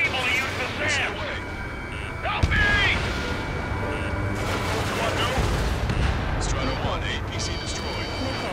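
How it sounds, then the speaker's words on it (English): Bombing in the combat flight game Ace Combat 7, heard as a steady roar of blasts and rumbling fire, with a sharp impact partway through, under radio chatter and warning tones. "They're bombing us!"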